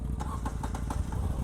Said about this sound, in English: It has that very nice parallel V-twin straight from a Moto Guzzi bike